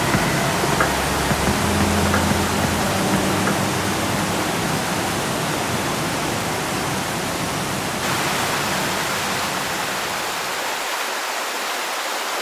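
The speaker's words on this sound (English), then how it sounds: "You can hear the sounds of the birds, the water rushing" Water from the Gollinger Waterfall in Austria rushes in a steady, loud broadband roar that continues for the whole stretch, with faint birdsong now and then over the spray.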